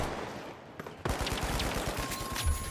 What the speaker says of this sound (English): Big nades coming in.